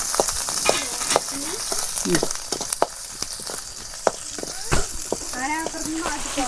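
Crushed ginger and garlic frying in hot oil, a steady close sizzle with stirring clinks and scrapes, while faint voices talk in the background.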